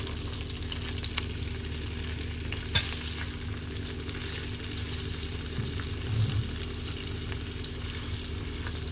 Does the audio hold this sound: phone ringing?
no